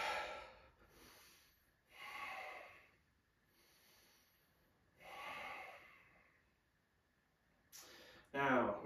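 Slow, deliberate breaths during a yoga class, several long inhales and exhales of moderate loudness close to the listener, rising and falling across the moment, with a sharper breath near the end.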